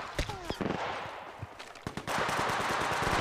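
Gunfire in Apex Legends, with rapid bursts of automatic shots and single cracks scattered across a few seconds, punchy and fairly close, followed by denser sustained firing over a background of game noise.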